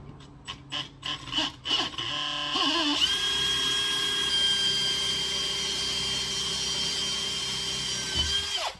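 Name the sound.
electric drill drilling a hole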